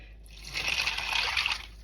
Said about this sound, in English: I'm just going to add a little bit of this water in here just to get that off the bottom